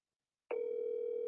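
A telephone ring tone on an outgoing call starts abruptly after a short silence and holds as a steady, clear electronic tone, heard alone.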